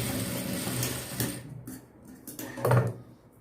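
A sewing machine stitches a folded strip of blouse fabric, a brief mechanical whirring run that fades after about a second and a half, followed by a short burst of rattling clatter near the end.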